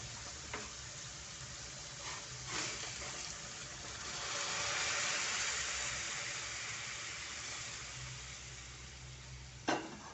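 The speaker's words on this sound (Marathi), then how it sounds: "आता आपण ह्याच्यामध्ये गरम पाणी घालणार आहोत" Hot water is poured into a pot of Kolhapuri misal with cooked matki sprouts, making a steady close rushing gush that swells in the middle and fades, with a couple of light knocks and a sharp clink at the end.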